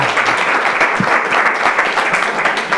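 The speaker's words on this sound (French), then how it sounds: "Maximum d'applaudissements." A studio audience at a televised quiz show breaks into loud, dense applause, a steady wash of many hands clapping close and full throughout.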